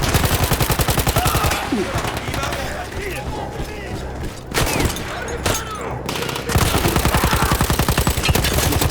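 A heavy machine gun captured from Austro-Hungarian troops in Battlefield 1 hammers out long, loud, close bursts of rapid fire at the start and end, with scattered distant shots and battlefield rumble in the pause between.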